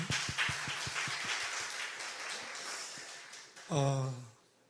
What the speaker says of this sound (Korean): 여러분들을 위해서 함께 박수하시겠습니다